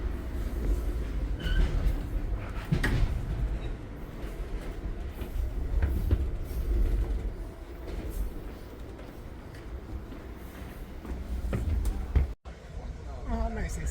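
A passenger train rolls along its rails with a continuous low rumble and rattle, steady and close, ending in a brief sharp clunk.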